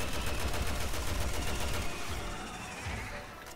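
Rapid automatic gunfire in Resident Evil 6, dense continuous bursts of shots that stay loud and then ease slightly, with no talk.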